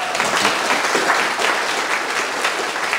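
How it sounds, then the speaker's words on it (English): An audience at a live talk gives a big round of applause, dense and steady clapping that lasts about three seconds with no voices over it. "give these people a big round of applause"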